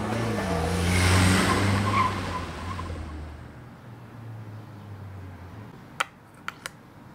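A cartoon car pulls away in an animated film, its engine a loud falling whine that fades into the distance over a few seconds, followed by three sharp clicks near the end.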